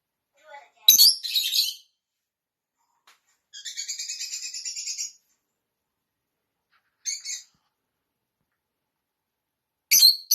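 A small bird perched on a person's head gives several separate bursts of chirps and a longer trilling call, loud and close, with silent gaps between.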